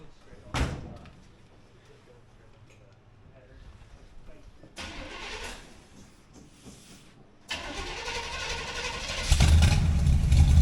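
An old car with side pipe exhausts starts up after a door slam, the engine catching and building into a loud, rumbling run with a thumping low end that swells near the end, with voices in between.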